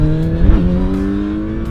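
A Kawasaki Z900RS Cafe motorcycle engine pulls under throttle, a loud, close, guttural drone whose pitch dips and then holds steady over a short stretch, with no voices.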